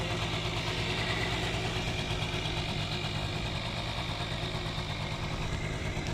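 A Honda Dio scooter engine idles steadily at a low, even rumble with no talking.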